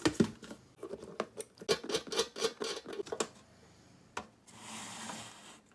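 An unpowered electric stew pot is handled and pried open: a run of close, sharp clicks, taps and scrapes of hard parts, then a softer rubbing hiss near the end.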